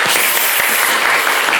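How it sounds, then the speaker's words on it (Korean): Church congregation applauds during a Sunday morning service, a brief burst of thick, continuous clapping from a large crowd. "하나님께 영광의 박수 올려드리겠습니다"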